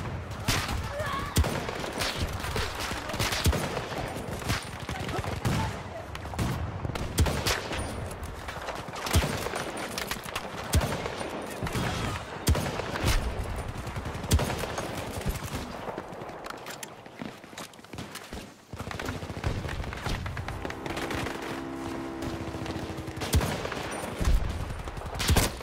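Rapid close-range gunfire from shooting enemies in the Battlefield 2042 video game, dense bursts crackling steadily throughout alongside game noise, with talk in between.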